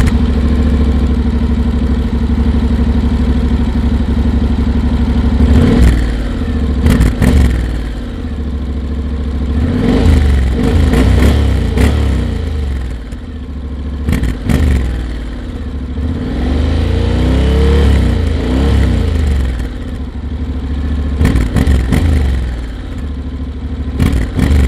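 A 2023 Honda Forza 750 scooter engine idles close by and is blipped repeatedly, several sharp revs rising and falling over a steady low rumble, with no talking.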